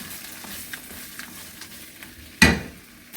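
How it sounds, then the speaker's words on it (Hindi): Masala frying and being stirred in a pan for lahori chana, a soft steady sizzle with light scraping, then one sudden loud metallic clank near the end; no one speaks. "इसको मैं अच्छी तरह से मैं भुनाई करूँगी इसकी"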